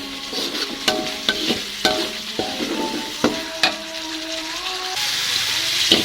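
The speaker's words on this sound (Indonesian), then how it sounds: "Jadi harus benar-benar matang tumis bumbunya." Spice paste for chicken meatball and quail egg balado stir-fries in a pan, a steady close sizzle broken by repeated scrapes and knocks of the spatula, with no talking.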